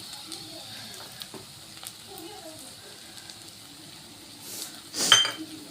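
Stuffed okra being stirred in a pan after coriander is added, with faint sizzling and soft utensil scrapes, then a sharp metallic clink near the end.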